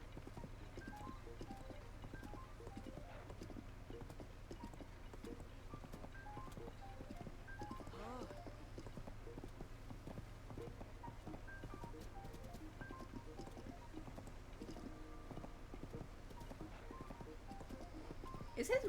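Horse hooves clip-clop steadily throughout a ride in the video game The Legend of Zelda: Tears of the Kingdom, a continuous even rhythm set against background game music and ambience.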